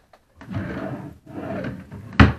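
A wooden drawer of a three-drawer chest of drawers slides out and back in a room, two rubbing scrapes followed by a sharp knock as it shuts, close and alone.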